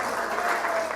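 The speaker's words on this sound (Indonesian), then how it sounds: "Jadi saya mau semua staf tepuk tangan untuk dirimu sendiri." Staff applaud together at a workplace gathering, a steady wash of clapping from a small group that holds evenly for a moment.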